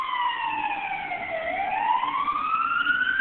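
A siren on North Tonawanda Fire Department Engine 6 sweeps down and then back up in one loud, clear wail as the fire engine approaches.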